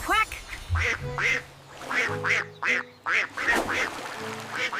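A cartoon duck from a children's alphabet song quacks repeatedly in short, bright bursts, a steady run of quacks riding over a musical backing.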